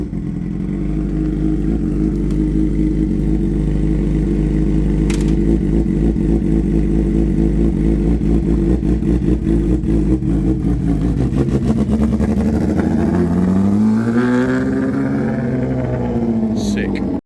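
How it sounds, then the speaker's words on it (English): A 600cc motorbike engine fitted to a homemade buggy runs with a steady, loud droning idle, then revs up and down near the end, with voices talking over it. "600cc motorbike engine"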